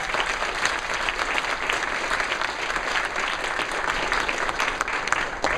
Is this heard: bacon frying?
no